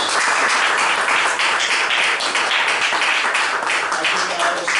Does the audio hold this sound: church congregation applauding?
yes